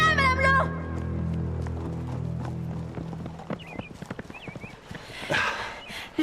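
A wild horse whinnies and clip-clops close by, its high neigh at the start giving way to hoof beats and scuffling, with a voice calling out over the commotion.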